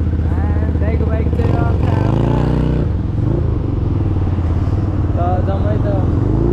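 A motorcycle engine runs loud and close, a steady throbbing idle with a rev that rises around midway, amid a busy festival crowd with music and voices mixed in.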